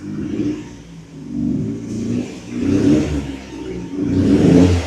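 A Ford Sierra Cosworth RS engine revs up repeatedly, rising and falling in three or four surges, loud and close with a throaty rumble, struggling to rev.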